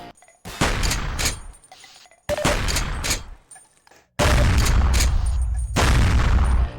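Normal-fire shotgun blasts from the Half-Life 2 mod The Wilson Chronicles: three loud, close booming shots with short decaying tails, the last followed by a sustained roar, no talk.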